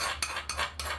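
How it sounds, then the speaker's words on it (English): A spoon scraping the sides of a bowl of pizza sauce, three short rasping strokes close and quiet. "I can kind of scrape the sides down, and I can add all of that to my sauce."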